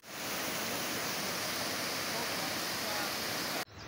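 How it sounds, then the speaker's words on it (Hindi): Nargol waterfall near Rawalakot in Kashmir roars as a steady, dense broadband rush of falling water, loud and close and unbroken for several seconds before cutting off abruptly near the end. "तो ये अभी हम लोग नरगोल वाटरफॉल है, यहाँ रावलाकोट से रास्ते के अंदर ही ये आती है।"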